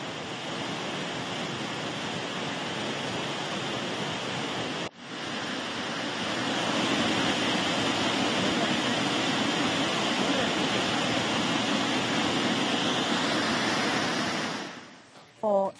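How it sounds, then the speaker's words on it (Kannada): Heavy rushing water from waterfalls at Charmadi Ghat in monsoon rain, a steady broadband roar that fills the whole stretch with no pause, loud and close, briefly dipping once before surging on and fading at the end. "ಚಾರ್ಮಾಡಿ ಘಾಟ್ನಲ್ಲಿ ಅದ್ಭುತವಾಗಿ ನೀರು ಧುಮ್ಮಿಕ್ತಾ ಇದೆ."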